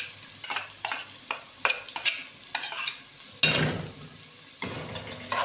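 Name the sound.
onions frying in ghee and oil in a pot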